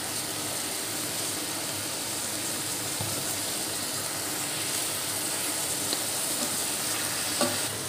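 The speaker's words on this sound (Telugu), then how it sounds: "మనం కట్ చేసుకున్న వంకాయ ముక్కలు అయితే వేసేసుకోవాలి" Cut eggplant pieces fry in a hot pan with a dense, unbroken sizzle, while occasional scrapes and clinks from stirring rise above the crackle throughout.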